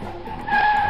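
Toy Gecko-mobile car from a children's superhero playset skidding, a short smooth squealing whine that rises and holds steady in the second half, close and fairly loud with no voices.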